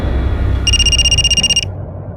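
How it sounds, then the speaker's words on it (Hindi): A telephone rings once with a shrill electronic trill lasting about a second, loud over a low background hum in a police drama scene. "दिल्ली से पीएसआई तोमर का फोन था।"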